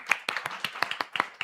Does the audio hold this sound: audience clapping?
yes